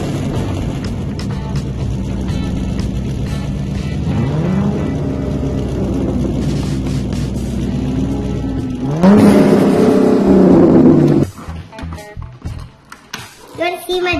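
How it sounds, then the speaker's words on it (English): A toy Ford GT40 car's engine is voiced playfully, a steady loud droning rev that rises in pitch and then swells near the end before breaking off into scattered noise, with people talking. "Start your engine, please."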